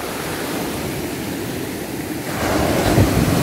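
Waves roll in and break along the Ganpatipule shoreline as a steady wash of surf that swells louder near the end, with no voices.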